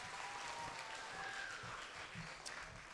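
A school spelling bee audience applauds a contestant, a steady wash of claps that stays fairly even for a few seconds.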